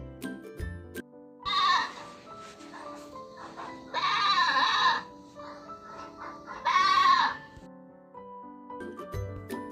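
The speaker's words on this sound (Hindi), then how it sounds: "ये है बकरा, जिसे हम इंग्लिश में बोलते हैं ही गॉट।" A male goat, a billy, bleats three times in drawn-out, wavering cries spaced a couple of seconds apart, loud and close over a low background hum.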